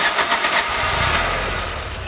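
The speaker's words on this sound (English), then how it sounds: "Try starting your engine." A cartoon truck's engine starts and runs, a loud, steady, rough rumble with a fluttering low pulse throughout, close and alone without voices.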